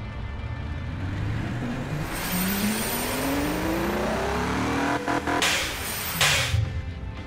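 A powerful car engine with over 3,300 lb-ft of torque in a video game revs up hard, its pitch sweeping upward in repeated climbs and dropping between shifts, loud and continuous with no talking.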